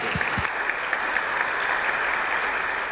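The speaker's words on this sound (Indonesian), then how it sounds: "kita berikan aplaus kembali untuk Bunga" Studio audience applauding for Bunga during an Indonesian television talk show, a steady, dense wash of clapping that fills the whole stretch at an even level with no voices over it.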